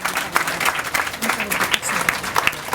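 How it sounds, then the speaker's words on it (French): An audience applauds at an office handover ceremony welcoming an incoming coordinator, with many hands clapping in an uneven, lively patter at moderate distance and steady volume. "sous vos applaudissements"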